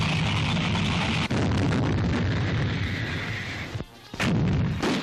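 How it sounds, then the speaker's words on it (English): Heavy gunfire rakes the tropical jungle foliage in a 1943 wartime combat scene, with booming artillery-like blasts and bursts in a dense, continuous barrage, briefly dropping out near the end before resuming loudly. "Gunfire searches the foliage for snipers in the trees."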